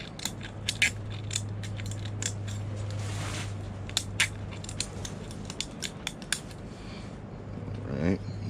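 Several sharp, separate metallic snips of scissors nipping burrs off metal for a penny stove, spaced irregularly over a steady low hum, with a short scraping sound in the middle.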